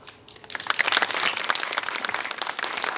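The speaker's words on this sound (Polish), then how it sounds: "Proszę o brawa." Theatre audience applause breaks out after a brief quiet moment at a summer theatre festival in Białystok and continues steadily as a dense wash of clapping from a crowd.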